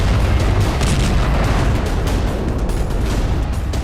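Sustained loud rumbling blast noise from an IED attack on Israeli tanks in Gaza, a dense continuous boom and roar filling the whole stretch without voices.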